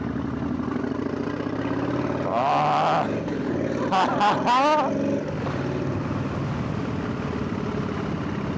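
A Harley-Davidson Low Rider S motorcycle engine runs steadily with a deep metallic rumble, swelling into a couple of loud revving roars mid-way before settling back to idle.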